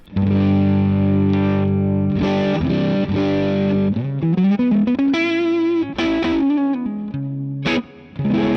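A distorted electric guitar through a tube amp on its stock setting plays sustained chords and bending notes with a thick, fuzzy tone, ringing loudly with no talking.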